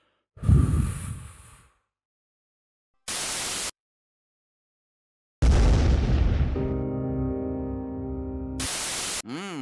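A cartoon character blows their nose in a few separate noisy honking bursts with silent gaps between them, loud and alone, the last one stretching into a buzzing, tonal rasp.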